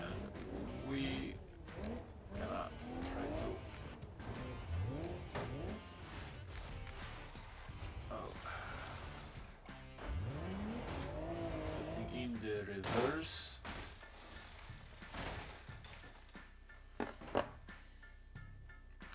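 A simulated car in BeamNG.Drive rolls downhill, its engine whining and rising and falling in pitch, with tire squeals, skids and occasional crashing bangs, fairly loud and continuous throughout.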